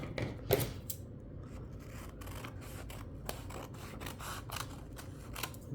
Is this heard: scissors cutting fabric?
yes